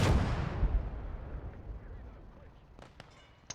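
Panzerfaust striking a tank in the World War II game Gates of Hell: Ostfront, a loud booming blast that rolls off into a long decaying rumble, with faint clicks and a small pop near the end.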